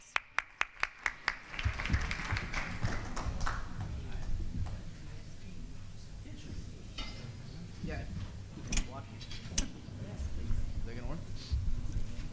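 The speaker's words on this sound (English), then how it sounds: "Let's give him a round of applause." An audience at an investment managers forum gives a round of applause that opens with a few sharp, separate claps and settles into a steady spatter of clapping, with a voice speaking faintly underneath.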